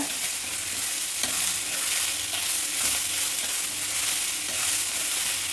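Cooked pigeon peas hiss and sizzle steadily in a hot pan of seasoned mixture, with constant close frying noise and occasional stirring scrapes, no talking.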